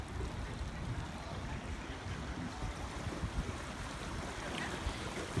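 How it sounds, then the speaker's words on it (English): River flowing past the Franklin Cidermill in Franklin, Michigan, a steady broadband rushing wash heard outdoors with some wind, constant and moderately loud with no voices. "There is the river."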